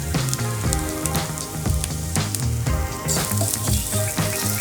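Sliced onions with thyme sizzle and crackle steadily in a hot pan, a dense, close frying hiss with scattered pops and no talking.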